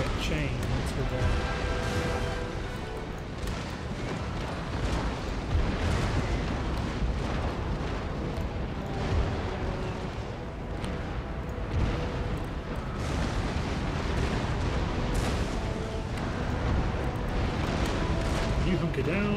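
Ship cannons of an Empire Total War naval battle fire chain shot in a dense, rumbling barrage of booms and bursts that runs the whole stretch, with a voice talking over the battle noise.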